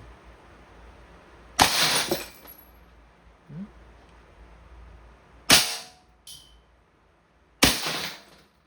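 Three sharp, loud gas-powered shots from a full metal Beretta M9A3 CO2 steel ball airgun, spaced a few seconds apart, each with a brief metallic ring and decay, and no talk between them.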